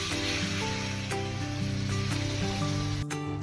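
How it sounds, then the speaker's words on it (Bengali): Hot water poured onto cooked-down spices for a duck curry raises a steady loud sizzle and hiss that runs unbroken for a few seconds before cutting off abruptly, with music playing underneath. "এবার আমরা গরম জল দিয়ে দিব"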